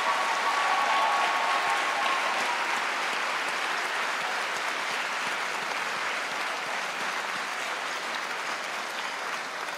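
A large crowd applauding at a high school pep rally on a sports field, a steady wash of clapping heard from a distance that holds evenly and eases slightly toward the end.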